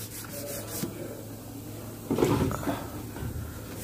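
Steady scratchy rubbing of used 800-grit sandpaper over wrinkled paint, with soapy water, a continuous low rasp that grows louder for a stretch midway.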